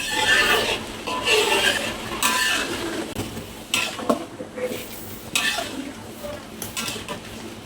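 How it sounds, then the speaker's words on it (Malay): Curry paste for Padang chicken curry sizzles in a hot pan while a utensil scrapes and stirs in repeated strokes, metal clinking against the pan. "Kita tumis dia sampai dia agak kering sedikit airnya"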